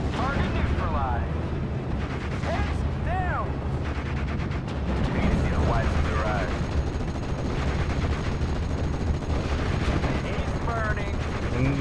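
Gunfire in Steel Division, a World War II strategy game, with dense rattling bursts, heavy artillery thuds and explosions rolling continuously, loud and close, while radio-style voices chatter over the battle.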